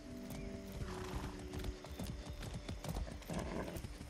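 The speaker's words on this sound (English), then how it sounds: "So hopefully we can take this horse down there." In the video game Far Cry 6, horse hooves clip-clop in a quick, steady rhythm, close and clear, and the horse neighs briefly near the start.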